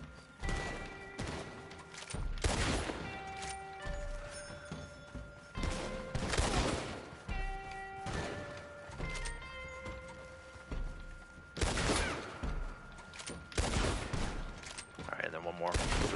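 Gunfire in Red Dead Online, repeated loud shots at irregular intervals over a steady game soundscape with musical tones and horse hooves.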